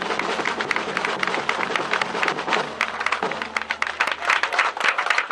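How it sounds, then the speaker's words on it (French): An audience at an award ceremony applauds steadily at moderate volume, a continuous wash of many hands clapping in a room, heard from some distance. "Bravo à Frédéric, il faut encore l'applaudir très fort"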